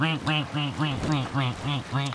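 A voice imitates a duck, giving about eight nasal quacks in a quick, steady rhythm, close and clear.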